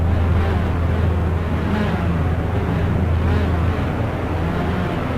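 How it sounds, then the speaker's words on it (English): Race car engines idle on the grid of the Imola circuit in a simracing video game, a steady low droning rumble that stays even and close throughout, with no voices. "As you can hear, the engines have started up and we are about ready to start this 11 lap race."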